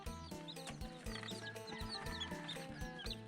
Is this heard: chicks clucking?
yes